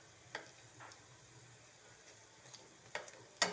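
Raw pieces frying slowly over low heat in a pan, a faint, quiet sizzle with soft scattered pops and occasional taps of a utensil against the pan, no talking.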